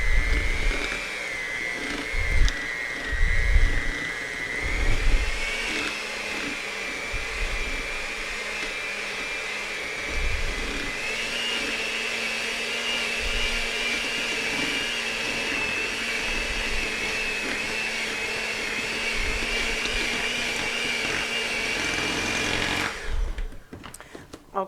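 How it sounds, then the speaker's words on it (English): Electric hand mixers beating powdered sugar in a kitchen bowl, a steady high whirring motor hum that runs continuously for over twenty seconds, with some clattering bumps early and near the end. "It's mixing well. I'm going to get out both my mixers though."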